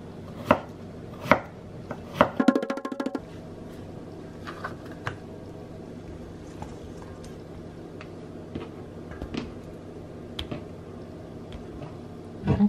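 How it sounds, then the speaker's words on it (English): Potatoes being sliced on a board with a knife, a few sharp knocks early on, then sparse scattered taps over a steady low kitchen hum, close by. "Let me slice our potatoes, just maybe this thick."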